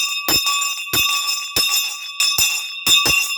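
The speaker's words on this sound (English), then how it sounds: "Let's start the day with the ringing of the school bell." Victorian-era hand-held school bell swung in a slow steady rhythm, about six bright metallic clangs with ringing overtones sustaining between strikes, close and loud.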